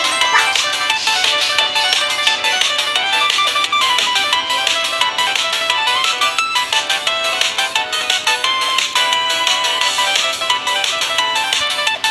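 A loud, continuous electronic phone ringtone plays for an incoming call, a bright repeating melodic pattern with steady rhythm and no talking over it.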